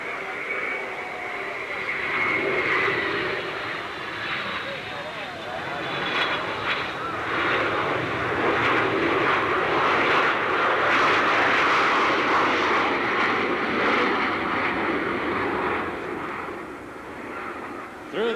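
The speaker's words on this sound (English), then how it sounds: "from the north end of the field, the British Airways Concorde" British Airways Concorde jet passing over an airfield at the 1986 Abbotsford International Airshow, a loud sustained roar that swells and holds for many seconds before easing off, with a distant announcer speaking faintly underneath.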